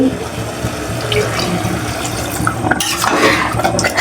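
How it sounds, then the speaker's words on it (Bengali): Water poured into a pan of cooking mutton curry, a loud continuous splashing and gushing with stirring and clattering of the pan throughout, rising into a fuller burst of pouring toward the end. "এবার এটাতে দিয়ে দিচ্ছি জল।"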